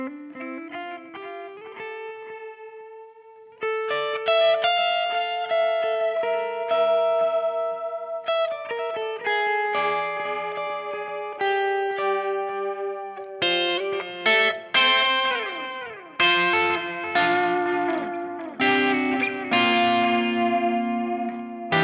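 A Giungi Path model electric guitar played with gain through effects, moving between sustained chords and picked runs, loud and up front, with chorus and echo adding shimmer and distortion thickening the louder second half; no one speaks.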